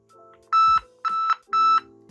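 A Motorola AXH04 smart home phone gives three bright electronic beeps in a steady rhythm, close and clear, signalling that another landline extension has joined the call.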